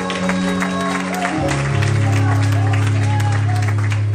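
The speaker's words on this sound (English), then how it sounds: "Clap your hands, everybody in this place." A church congregation claps during worship, a steady loud wash of hands mixed with crowd noise and sustained music tones underneath.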